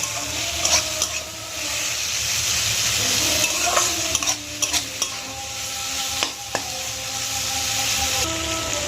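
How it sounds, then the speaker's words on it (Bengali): A spoon stirring Kashmiri chili powder and cumin powder in a frying pan while preparing egg pasta, a steady loud sizzle broken by scraping strokes and a few clinks against the pan, close up, with no talking. "1 চামচ জিরে গুঁড়ো দিয়ে দেবো, দিয়ে ভালো করে নেড়ে নেব"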